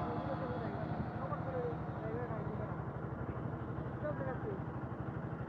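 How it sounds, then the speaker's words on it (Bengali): A motorcycle engine runs on the way to Tanguar Haor in Sunamganj, a close, steady low putter with a quick regular pulse that carries on evenly throughout. "এই দেখেন বাইক এবার দিতেছে,"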